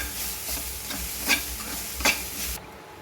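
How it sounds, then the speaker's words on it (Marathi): Fresh grated coconut roasts in a pan, a steady dry sizzle broken by two sharp scraping stirs before the sound cuts off near the end, with no voices. "तर आता आपण हे ओलं खोबरं छान भाजून घेऊ."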